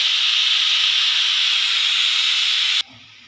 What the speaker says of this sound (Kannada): ಇನ್ನೊಂದು ಆಲ್ರೆಡಿ ಈಗ ವಿಜಿಲ್ ಬರ್ತಾ ಇದೆ, 2 ವಿಜಿಲ್ ಬರಬೇಕು